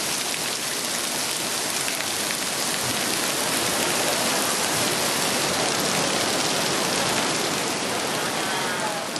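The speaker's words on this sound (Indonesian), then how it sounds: "Hujan lagi, hujan lagi." Steady rain falls continuously, a dense hiss of drops with no pauses, fairly close and even throughout.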